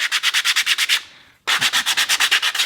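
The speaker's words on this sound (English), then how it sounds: "put your sandpaper at a 45-degree angle and give it a good sand like this" Sandpaper held at an angle rubs the edges of small wooden Christmas decoration pieces in quick, even back-and-forth strokes, close and loud, with a brief pause midway before the rhythm resumes.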